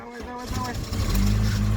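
A UAZ Hunter engine cranking and catching after standing idle, a low motor drone rising and settling into a loud, steady run close by, with people talking.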